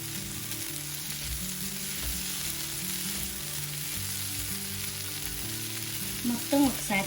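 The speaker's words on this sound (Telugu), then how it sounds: "మొత్తం ఒకసారి కలుపుకుని 1 నిమిషం వేగించుకోవాలి." Raw banana fry sizzles steadily in a pan after a pinch of coriander powder goes in, a continuous close frying hiss with a low background hum and a few brief scraping stirs near the end.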